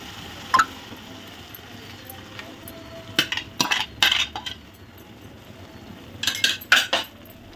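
A spoon scrapes and clinks against a cooking pot while boiled rajma is stirred in, with a few sharp metallic knocks in short bursts over a quiet background.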